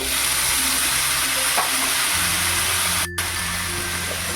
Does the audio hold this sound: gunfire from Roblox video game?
no